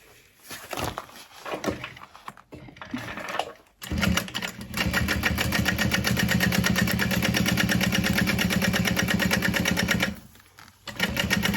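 A sewing machine stitches around the sides of a Karvi Mini backpack, running steadily and loudly for about six seconds after a few short stop-start bursts, then halting before a brief restart.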